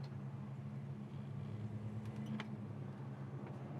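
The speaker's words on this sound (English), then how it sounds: "Here we are at idle. We're in neutral." A 1968 Chevrolet Chevelle SS engine idles in neutral, quietly and evenly at a low rumble, with a couple of faint ticks over the steady hum.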